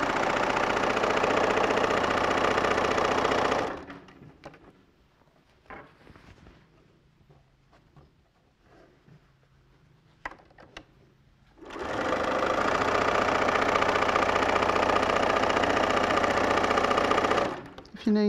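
A sewing machine stitches a log cabin quilt section in two long, steady runs, close and loud, separated by a quieter stretch of light handling and clicks.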